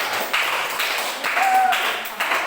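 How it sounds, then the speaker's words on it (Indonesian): A school class claps hands in a classroom with a quick, uneven rhythm of taps that swells and dips over a couple of seconds, close by and moderately loud. "Tepuk tangan dulu untuk kita semua."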